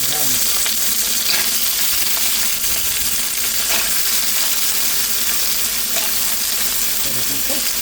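Chicken pieces frying in a hot pan, with a steady, continuous sizzle and crackle throughout. Faint kitchen clatter can be heard in the background.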